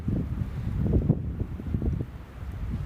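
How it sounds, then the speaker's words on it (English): Blizzard wind at a jeep campsite rumbles and buffets a microphone in low, gusty surges, steady and close, with no talking. "the wind just shifts constantly from one direction to the other."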